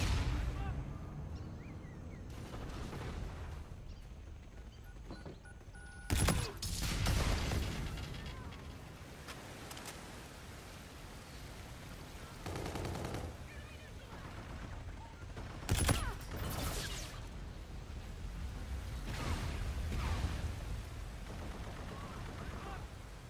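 Gunfire in Call of Duty: Infinite Warfare on the Genesis map arrives as scattered bursts of sharp shots over steady combat noise, with a few loud cracks standing out, at times under radio voice callouts.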